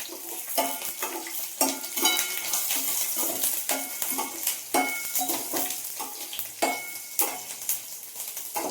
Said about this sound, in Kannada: ಸಾಸಿವೆ ಸಿಡಿದ ನಂತರ ಲೋ ಫ್ಲೇಮ್ನಲ್ಲಿ ಇಟ್ಬಿಟ್ಟು ಬೆಳ್ಳುಳ್ಳಿ ಹಾಕ್ತಾ ಇದ್ದೀನಿ